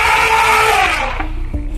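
An elephant call fills the clip: a loud, sustained harmonic trumpeting blare that slides slightly downward and fades after about a second, leaving low rumbling noise, with no talking.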